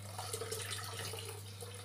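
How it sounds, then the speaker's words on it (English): Boiled hot water poured into a bowl for sweet custard, a steady close splashing trickle that runs evenly throughout over a low hum, with no talk. "Now we are going to pour in our hot water, the boiled hot water."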